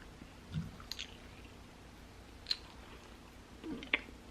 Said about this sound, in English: Let's try a wing. I'm gonna try barbecue